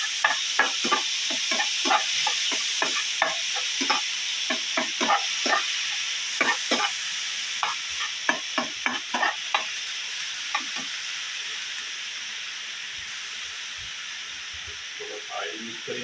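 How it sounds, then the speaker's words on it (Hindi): Onions sizzle in hot oil in a pan for a yogurt eggplant curry, a bright steady hiss with frequent stirring scrapes through the first two-thirds that then settles into plain frying, heard close. "प्याजों को हम लाइट ब्राउन कर लेंगे।"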